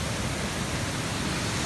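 Steady, dense roar of the Aling Aling waterfall in Bali, broadband rushing water filling the whole clip at a constant level, close and loud, with no voices.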